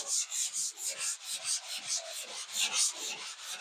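Steady back-and-forth sanding of drywall joint compound skimmed over tape lines, a rhythmic scratchy rasp of about ten close strokes with no talking.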